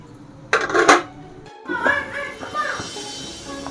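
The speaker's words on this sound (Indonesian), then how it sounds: "airnya udah mendidih, kita tutup ya biar matangnya merata" A metal lid clanks onto a pot of boiling water with a couple of sharp clinks, followed by softer rattling as it settles, close by.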